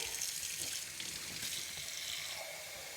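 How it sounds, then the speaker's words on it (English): Water runs steadily from a tap into a measuring cup for sourdough starter, a close, even hiss and splash that tapers slightly at the end. "Let me fill up my little measuring cup, even though I'm not measuring."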